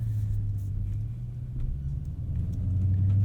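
A 2019 widebody Dodge Challenger R/T Scat Pack's low exhaust rumble drones steadily nearby, deep and even, swelling slightly toward the end.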